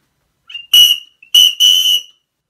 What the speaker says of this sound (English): the Windstorm Ultimate Whistle